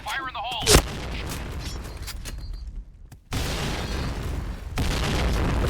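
A shooting video game produces a sharp booming blast near the start, then bursts of gunfire and heavier rumbling explosions that swell in the later seconds, with talking over the game sounds.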